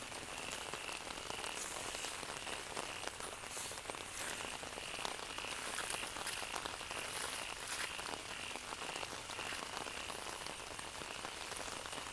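A long, unbroken shower of rain pours over a Thai farm in the monsoon month, drops pattering thickly on surfaces in a uniform hiss with no speech.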